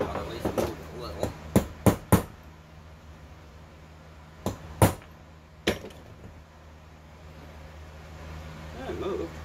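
Sharp, close hammer blows strike a pin in a carburetor on a workbench, in irregular bursts of several hits with pauses in between. The carburetor is from an Allis Chalmers 710. A voice is heard briefly.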